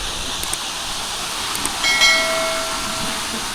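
Water pouring over Mandohol dam at Ruichonda waterfall, a steady broadband rushing hiss heard close and continuous, with a faint brief tonal whine partway through.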